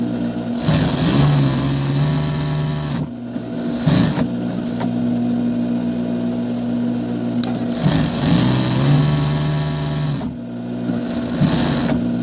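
An older 4-thread overlock sewing machine runs close up in repeated bursts, its fast whirring hum broken by brief pauses between stitching runs, with no talk.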